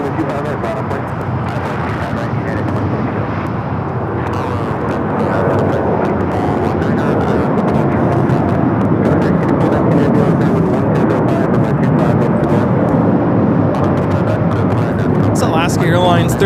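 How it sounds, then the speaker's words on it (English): Alaska Airlines Boeing 737-800 taking off from LAX, a sustained broadband jet roar that swells slightly over the run, with talk over it throughout. "Alaska Airlines 1355 taking off to Portland on the 737-800."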